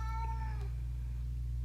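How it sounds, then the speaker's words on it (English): A cat meows in the background, one drawn-out vocal cry that rises and falls over a steady low hum, fairly faint and soon fading. "You'll also hear my cat very vocal this morning in the background."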